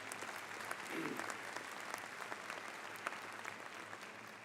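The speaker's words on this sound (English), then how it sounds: "Well, we can give that a round of applause." A commencement crowd at a medical university applauds, steady massed clapping at moderate distance with a few sharper claps, holding at an even level and fairly quiet overall.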